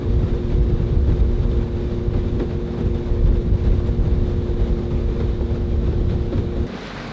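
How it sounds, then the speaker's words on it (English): A steady, droning outboard motor on a Gheenoe boat runs continuously at close range while duck hunting in Arkansas, with broadband wind and water noise; the engine hum drops off abruptly near the end. "motor's running like a top."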